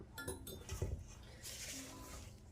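Wooden spoon clinking and scraping against a bowl while mixing focaccia dough, a few quick close knocks early on, then softer rubbing and stirring noise.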